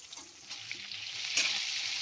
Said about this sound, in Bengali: আলুটা একটু ভেজে ভাজা ভাজা করে নেব